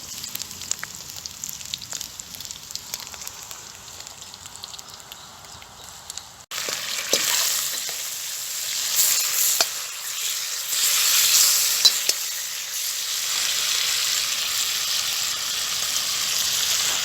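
Sausage and bacon sizzling in a pan over a campfire at a woodland wild camp on a spring morning. Steady close frying hiss that grows louder partway through, with faint crackles and no talk.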